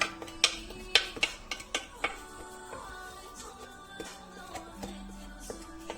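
Pastilla filling of almonds being stirred in a pan, with sharp clinks and scrapes of a spoon against metal, quick at first and then softer and sparser, close up and quiet.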